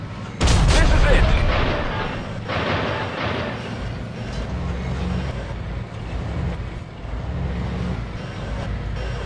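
Gunfire and artillery from the modern tank war game Armada: a heavy boom opens, followed by rolling blasts and steady rumbling battle noise with a few further bursts, with a voice faintly mixed in.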